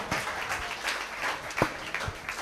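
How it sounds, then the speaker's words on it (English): Audience applause at a developer camp in Manila, a short, fairly thin round of clapping with a few distinct sharp claps standing out, moderately loud and steady throughout. "Give them a round of applause."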